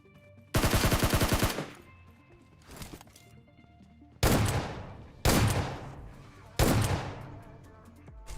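Loud gunfire from the mobile game PUBG Mobile: a fast automatic burst from a SCAR-L rifle, then several separate heavy shots that each ring out and fade, with quiet gaps between.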